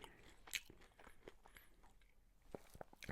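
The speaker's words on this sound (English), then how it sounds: "Sorry if you don't like people chewing, cause I will be eating." Close, crisp crunching and biting of fries and lumpia, several irregular bites spread across a quiet room with no talking.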